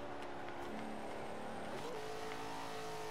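Engine revving through a manual downshift in the racing video game Forza 5, with the throttle held open, a steady loud synthetic engine whine rising and falling continuously with no talk.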